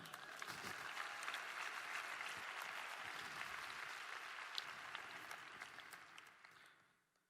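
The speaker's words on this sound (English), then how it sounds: "Let's clap it up for her." Keynote audience applause, a full room clapping steadily for several seconds before tapering off and fading out at the end.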